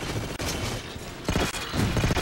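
A proximity grenade goes off in the video game Halo 4, delivering a couple of loud, crackling blasts within busy, mechanical gameplay noise.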